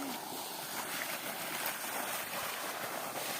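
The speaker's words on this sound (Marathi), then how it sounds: "हे बघा पाणी चालू आहे" Irrigation water flows into a garlic field in a steady, rushing wash that runs without a break, close by and fairly loud, with no clear talk.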